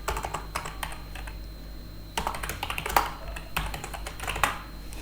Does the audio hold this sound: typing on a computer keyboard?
yes